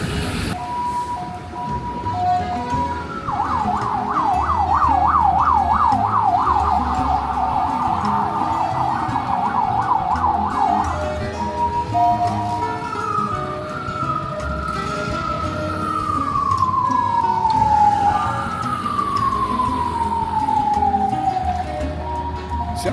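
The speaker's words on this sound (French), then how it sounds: "Je m'attendais pas à ce que l'ambulance soit aussi mal à l'aise sur la route" Ambulance siren wailing through traffic on a Taiwanese street, a fast warbling yelp giving way to long falling wails, loud and close over steady road and engine noise.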